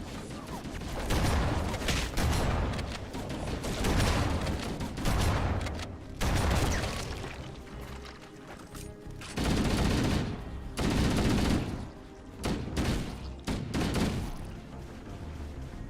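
Heavy automatic gunfire in a Halo game, with bursts of rapid shots rising and falling in loud waves and brief lulls between them, mostly without talk.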